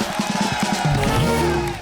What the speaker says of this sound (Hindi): डॉक्टर साहब के लिए एक बार जोरदार तालियां हो जाए।